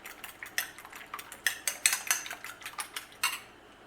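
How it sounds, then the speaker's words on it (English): A utensil clicks and scrapes rapidly against a bowl while egg is mixed into a raw turkey meatloaf mixture, a close, uneven run of clatters that stops abruptly. "And we're just gonna mix it up here a little bit."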